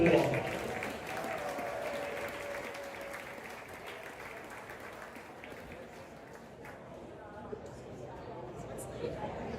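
Audience applause in a school hall for the cross-country team during a high school's 100-year celebration, a loud burst of clapping at the start that thins into a long, softer patter with crowd murmur underneath.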